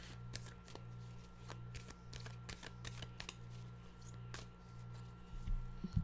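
Tarot cards are shuffled by hand in a quiet room, a steady run of soft riffling and slapping card sounds, close and alone, with a low steady hum underneath.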